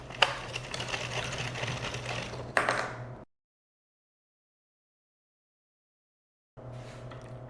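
Knitting machine carriage running rows of a candy corn hat, a quiet rapid mechanical clatter that stops abruptly, leaves a long silence, then resumes.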